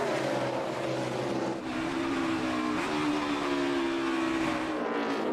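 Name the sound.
NASCAR Cup Series race cars racing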